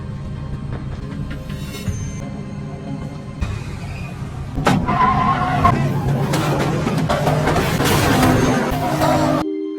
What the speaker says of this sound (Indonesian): Radkel pun mengebut, dan terjadilah kejar-kejaran antara Radkel dan pria psikopat tersebut.